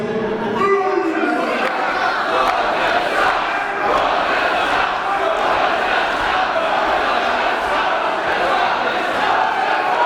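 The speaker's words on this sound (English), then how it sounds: "a soundbite of everyone in this crowd chanting Roger sucks" A wrestling crowd at a Wrestle Rampage event chants together in a loud, sustained roar of many voices, with the noise of the arena audience filling the space throughout.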